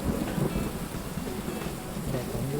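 A thunderstorm in a fishing video game: steady rain hisses over a low, continuous rumble of thunder at moderate level, with no clear voices.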